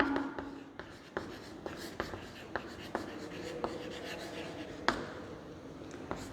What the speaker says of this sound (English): So write the section formula here.